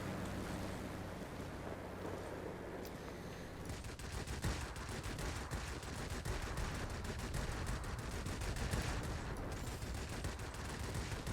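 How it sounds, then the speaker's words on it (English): Ju 87 D-5 Stuka cannons firing in the World of Warplanes game, a rapid, dense stream of gunfire shots over a constant engine and environment roar, growing sharper after a brief lead-in. "Let's use our cannons."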